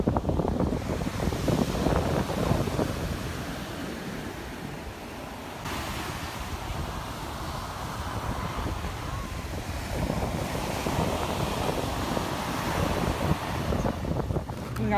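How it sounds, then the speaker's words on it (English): Surf rolls onto a Hawaiian beach under steady wind that buffets the microphone, a broad continuous roar of waves with gusty rumble throughout. "we're headed to the beach"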